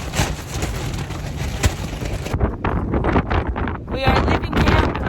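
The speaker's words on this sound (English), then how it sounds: "I believe you'll hear no things I say today because it is this windy." Strong wind roars across the microphone on a mountain trail while hikers leave camp on Mt. Whitney in June, a loud, steady buffeting gust noise with brief quieter lulls that swamps everything else.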